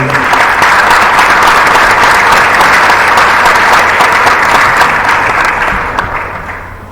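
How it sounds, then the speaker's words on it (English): Loud, dense applause from a symposium audience, a sustained sheet of clapping that holds steady before tapering off toward the end. "Big applause, please."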